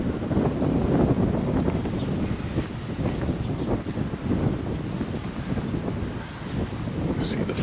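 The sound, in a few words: strong wind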